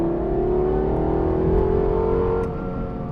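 A Lexus LFA's engine revs with a smooth, rising, musical tone that holds loudly and steadily, then eases off near the end.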